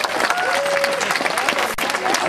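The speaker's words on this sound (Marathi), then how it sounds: "त्यासाठी जोरदार टाळ्या उद्या" Applause at a Disability Day school gathering after a child's speech, a short stretch of clapping mixed with voices and crowd noise.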